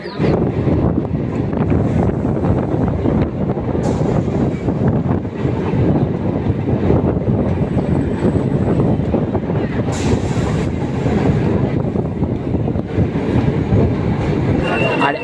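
A local train on the Naihati to Sealdah line rumbles along continuously and loudly, with wind buffeting the microphone and a dense clatter of wheels on track.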